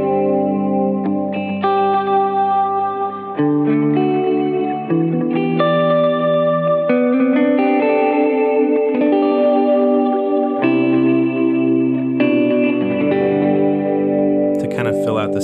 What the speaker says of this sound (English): mainly I'm using that type of a sound, just a really subtle secondary delay